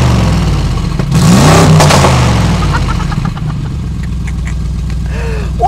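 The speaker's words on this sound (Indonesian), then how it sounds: "Wow, ini adalah suara knalpot yang paling heboh yang pernah saya denger gitu loh." Mercedes-AMG G 63 Mansory SUV exhaust revving hard in Sport Plus mode, a loud close-up engine roar that swells and falls, with crackling pops and bangs trailing off behind it.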